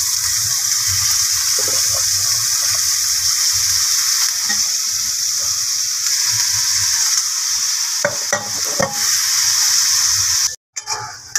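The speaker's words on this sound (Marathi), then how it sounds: "टोमॅटो नंतर आता आपल्याला कोबी टाकायचे आहे" Drained cabbage goes into a frying pan of tomato masala and is stirred, making a loud, continuous hiss and sizzle with a few clattering scrapes of the spoon near the end and no talk.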